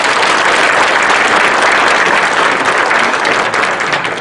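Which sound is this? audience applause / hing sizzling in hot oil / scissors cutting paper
audience applause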